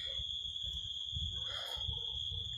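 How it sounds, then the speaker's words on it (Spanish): Crickets chirp at night outside a reputedly haunted house, a steady high continuous trill with low rumbling noise underneath, no talking. "Escucha los grillos,"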